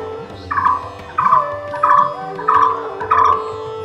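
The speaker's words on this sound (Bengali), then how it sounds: "দেখুন টিয়া পাখির সাউন্ড।" A parrot call plays through a loudspeaker at a science city exhibit in Agartala, Tripura, as five evenly spaced squawks repeat over a steady electronic hum.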